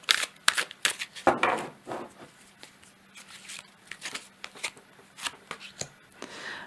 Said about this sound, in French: je prends une ou deux cartes de l'oracle de l'éveil intuitif pour compléter ce message